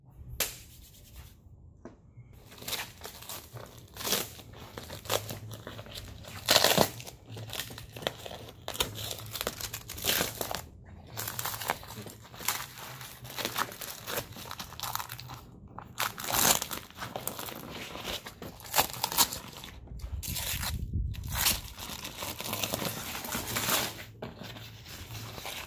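A wrapped forging contraption for shaping a Mercedes bumper being unwrapped: continuous close crinkling and crumpling of wrapping, with tearing bursts and brief pauses, steady and moderately loud throughout.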